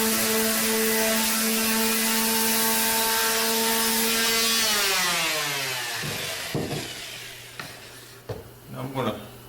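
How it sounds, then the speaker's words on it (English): A wooden jointer sled for a table saw gets a light sanding: a loud, droning motor whine runs steadily, then winds down in pitch and gives way to a few scattered scraping rubs. "I'll do a light sanding."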